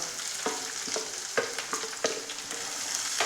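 Chopped onion sautéing in a pan with garlic, ginger and green chillies, a steady close sizzle broken by a few sharp stirring scrapes, with no voices.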